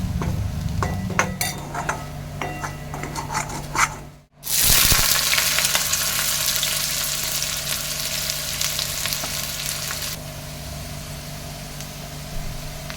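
Ginger and garlic sizzle steadily in oil in a pan, a loud continuous frying hiss with occasional utensil clinks, a brief dropout midway, then the sizzle resumes and settles slightly quieter.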